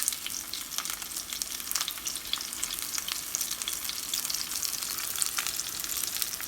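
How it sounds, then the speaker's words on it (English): Steak searing in a hot pan, a continuous bright sizzle with crackling spits as the pan is shaken and the meat moved around, no voices. "we give it a little shake, move it around just so it gets a good sear on all the sides"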